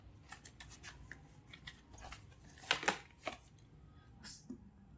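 Tarot cards are shuffled by hand for a reading, with quiet soft riffles and a few sharper snaps and taps scattered irregularly in an otherwise hushed room.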